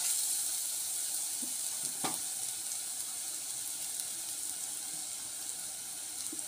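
Bitter gourd curry being stirred in a pan after salt and turmeric go in, a steady soft sizzle with faint scraping of the spoon and a couple of brief clinks, no talking.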